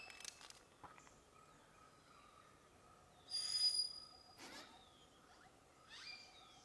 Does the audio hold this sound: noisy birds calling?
yes